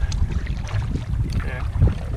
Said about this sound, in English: There's quite a bit of wind on the lake right now